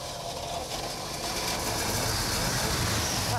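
A revived 1966 Chevrolet C-10 long-bed barn-find pickup runs after storage, giving a steady, even rumble with broad mechanical noise that holds at a constant level throughout.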